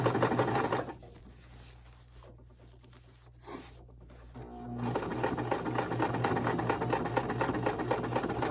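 A sewing machine stitches along the inside seam of a basket made from a dish drying mat, running in bursts with a pause for back stitching and then a longer steady run.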